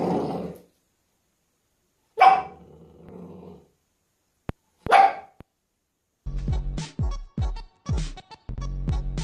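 A dog barks and growls in separate bursts: a few single woofs with pauses, then a rapid run of deep, loud barks near the end.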